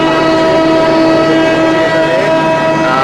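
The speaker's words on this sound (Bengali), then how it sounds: "এখন ট্রেনটি প্ল্যাটফর্ম ত্যাগ করবে" A loud, close Rupsha Express intercity train leaving the Mobarakganj station platform, with a sustained horn-like tone and continuous rumbling of rail cars, steady throughout with no talking.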